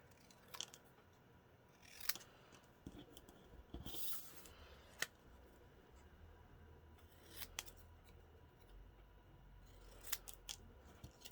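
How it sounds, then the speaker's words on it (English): Scissors snip through paper while trimming a puffin greeting card down to size, giving several quiet, brief cuts spread out over a faint background. "So I'm just trimming it down just to be the words there"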